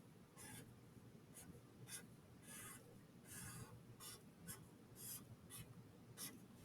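Marker or chalk writing on a classroom board: a series of short, scratchy strokes in uneven bursts, close and fairly clear over a low background hum, with no talking.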